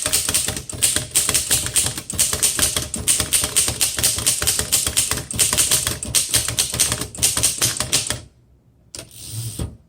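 A 1913 Royal 5 antique manual typewriter typing in dense, rapid, close keystrokes with a steady clatter of key strikes for about eight seconds, then falling quiet with a few faint mechanical sounds at the end.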